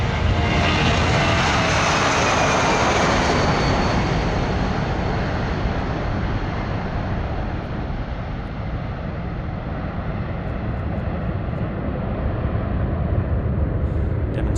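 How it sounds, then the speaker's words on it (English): A C-17 Globemaster flying at the Australian International Airshow 2023, a loud roaring engine wash that sweeps past and slowly fades into a distant rumble. "the Pacific Air Force's C-17 demonstration team from the 535th Airlift Squadron at Hickam in Hawaii"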